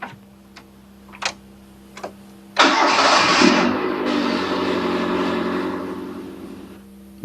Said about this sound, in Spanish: Primero arrancamos el motor.